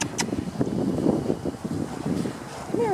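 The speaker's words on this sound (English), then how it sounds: "First day I've seen the wind blowing." Wind blows steadily outdoors as a rough, broadband rush with gusty swells, close to the microphone, with faint voices underneath.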